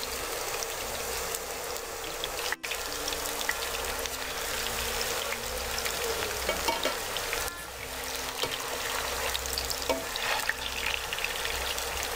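Potato slices frying lightly in oil in a pan make a steady, dense sizzle with fine crackling that carries on evenly throughout, fairly quiet and with no voices.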